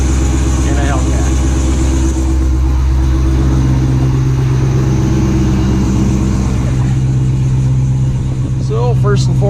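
A Dodge Hellcat idles loudly on a cold start, a steady deep rumble with a strong low throb held throughout, while someone talks over it.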